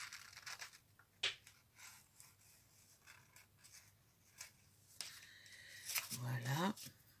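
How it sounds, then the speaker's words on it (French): Scissors snip paper in short, quiet, scattered cuts while a vintage pocket embellishment is made, with soft handling rustles between the cuts and a brief higher scrape near the end. "Je vais le faire au ciseau."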